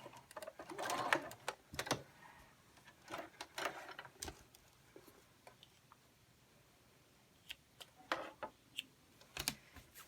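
A sewing machine stitches around a washable mop head cover in short, quiet bursts of rapid whirring, with small clicks and pauses between runs.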